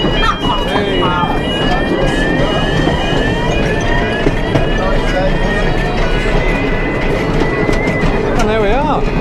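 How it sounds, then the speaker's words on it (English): The Rio Grande miniature train ride at Paultons Park rumbles steadily along with squealing wheels and a horn-like tone, loud and continuous, with people talking over it. "Great little train ride here at Paultons Park."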